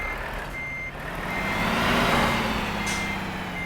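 Reversing beeps from a truck in Universal Truck Simulator: evenly spaced electronic beeps over a steady engine drone, with the motor swelling midway.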